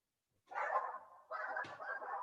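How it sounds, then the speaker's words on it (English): A small dog gives a couple of short, close barks in quick succession, indoors and alone, each a brief yappy burst separated by a pause. "Who was that? That's a dog."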